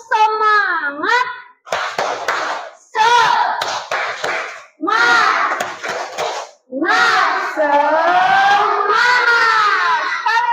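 A class of children in a classroom doing a patterned spirit clap, bursts of hand claps in set rhythmic groups mixed with loud chanted and shouted voices, close and energetic, with pauses between phrases.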